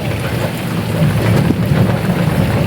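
Heavy rain pours steadily and close, a dense, loud wash with low rumbling underneath, heard alone without voices.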